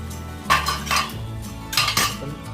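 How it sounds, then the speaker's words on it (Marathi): A metal lid lifted off a pot of cashew vegetable curry, two bright clattering clanks of metal against metal about a second and a half apart, close and fairly loud over a low background hum, with no talking. "आपण आता हे झाकण बाहेर काढूया"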